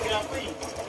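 A Honda Click scooter engine running steadily after starting on the first try, with a close, fast, even mechanical chatter under a brief voice.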